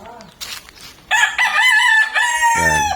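A rooster crows loudly and close at a backyard chicken farm, one drawn-out call after a few softer clucks, with other fowl faintly in the background.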